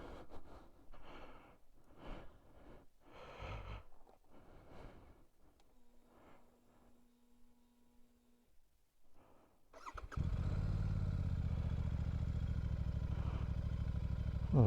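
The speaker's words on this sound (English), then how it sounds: "is the sound of those Enfield Precision end cans and the exhaust note" A motorcycle fitted with Enfield Precision end cans fires up after some quiet shuffling and breathing, then settles into a loud, steady idle with a deep exhaust note close by.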